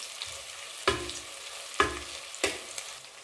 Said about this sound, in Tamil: அதனால தான் வெங்காயத்து கூட புதினாலையும் சேர்த்து வறுக்கிறோம்.